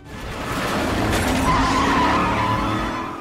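A police car races through a chase with screeching tires and a loud, continuous engine roar, close and steady throughout.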